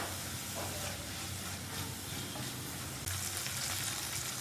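Brinjal and fenugreek leaf curry with turmeric, ginger paste and green chili paste fries in a pan, a dense steady sizzle and hiss that swells louder toward the end.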